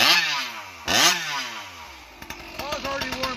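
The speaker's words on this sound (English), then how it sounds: "So this is a video if you like to hear ported and pipe saws. We'll just run some cuts here." Ported Stihl MS661 chainsaw with a tuned exhaust pipe, revving hard in loud close sweeps, then dropping into a choppy idle with quick throttle blips while cutting wood.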